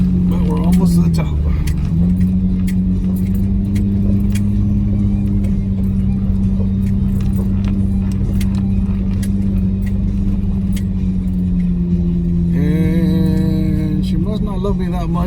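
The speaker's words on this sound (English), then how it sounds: "We still got downhill assist on. We're gonna just let it coast on its own. It's still grabbing the brakes." A Jeep JK/JL coasting downhill with downhill assist engaged gives a steady low engine drone with faint jangling, while a person talks over it. Near the end a brief higher whine rises.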